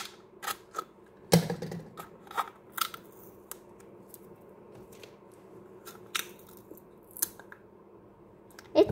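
A roll of washi dot stickers being opened: scattered crinkly rustles, ticks and snips of paper and plastic with one louder crackle near the start and another at the end, quiet and close with no talking.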